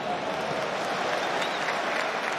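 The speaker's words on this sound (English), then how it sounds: "Gets a big round of applause every time he touches the ball." A stadium crowd at a Club Brugge versus Manchester United Europa League football match applauds a home-grown player with steady, dense clapping and a crowd murmur that holds throughout.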